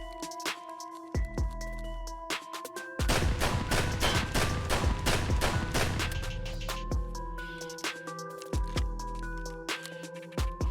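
Gunshots fired in Escape From Tarkov with the LS321 tactical device fitted, laser off: a single shot, a dense burst of rapid fire, then a few more spaced single shots, loud and close with ringing tails.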